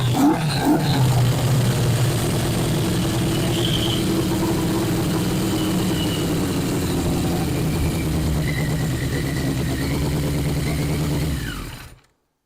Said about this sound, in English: successfully got this bike running that hasn't ran or been on the road for 20 years